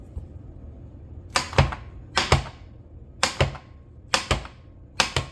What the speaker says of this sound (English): I'm going to finely dice up my sausages.